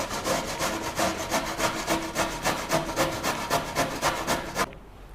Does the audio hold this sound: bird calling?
no